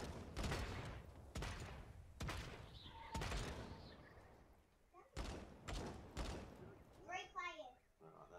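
Gunfire in the video game Realm Royale, several sharp loud shots spaced across the stretch with a short burst near the end, mixed with players talking.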